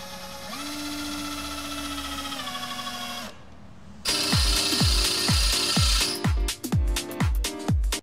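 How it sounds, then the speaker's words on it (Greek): A power drill bores a hole in a Greek workshop refit of an oil cooler, starting with a steady high-pitched whine that shifts pitch, then a pause and a louder burst of rapid repeated ratcheting clicks. "πάμε στην ουσία τώρα να κάνουμε μια τρύπα εδώ και την άλλη να την ανοίξουμε λίγο"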